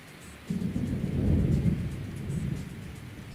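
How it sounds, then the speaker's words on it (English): Thunder and rain in the game Morrowind make a low rolling rumble that swells after a quiet start, with a steady hiss of rainfall over it and no speech. "So it's raining outside"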